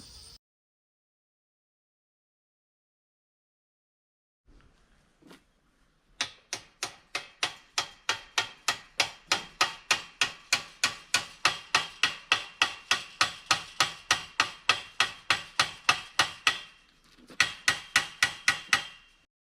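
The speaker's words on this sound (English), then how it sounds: "I take the hammer and start beating on the post to try to knock a joint in it." Steady, rapid hammer blows ring out on a wooden post, dozens of sharp knocks in an even rhythm after a quiet start, with a brief pause near the end.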